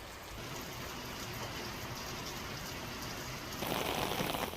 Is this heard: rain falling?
yes